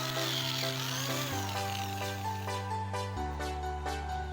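A power tool spins steadily while polishing old chrome-finished aluminium metal, a loud continuous whine holding steady tones that step down in pitch twice, with faint rhythmic scraping overtones and no talk.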